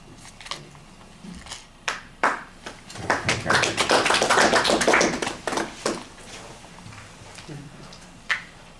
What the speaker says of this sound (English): I count the number of claps that you guys give him